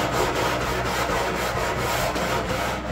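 Hand sanding a radius on beech heartwood for a wardrobe, a close, steady rasping rub repeated in quick even back-and-forth strokes, about ten passes with no voices.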